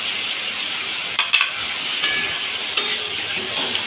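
Vegetables coated in turmeric sizzling in a frying pan, with a steady frying hiss broken by a few sharp scrapes and clinks of a spoon stirring against the pan.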